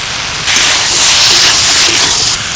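Ground spice paste drops into hot oil with frying ridge gourd and potato, bursting into a loud, steady sizzling hiss that lasts about two seconds before settling back to a quieter crackle.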